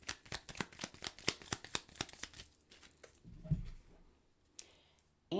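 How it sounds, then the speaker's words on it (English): Tarot cards riffled and shuffled in a quick run of sharp papery flicks, then a pause before a single card is drawn and laid down, close and fairly faint with no talk. "let's pull a clarifying card for the Eight of Swords"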